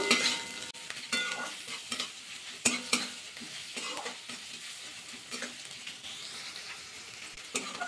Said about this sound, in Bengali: এবার কড়াইশুঁটি দিয়ে দেবো, একসাথে ভাজা করবো একটু।